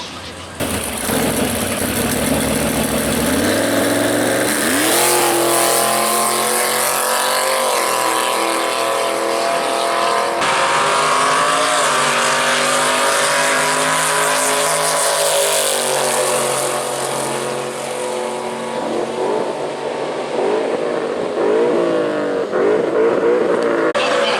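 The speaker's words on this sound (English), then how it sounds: "Chevy's S10 pickup truck making a solo pass in that left lane." A Chevy S10 pickup truck makes a solo drag racing pass in the left lane at Worldwide Technology Raceway, its engine roaring loud and close, rising through gear changes with a steady, sustained howl and no talk over it.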